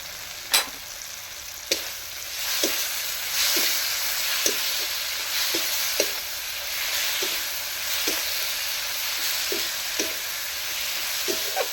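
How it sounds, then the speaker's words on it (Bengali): Spice paste sizzles and fries steadily in hot oil for a Bengali raw-banana kofta curry, a dense continuous hiss broken by regular soft stirring scrapes, close up with no talking. "মশলাটা একটু কষবো যতক্ষণ না তেল ছেড়ে বেরিয়ে আসছে"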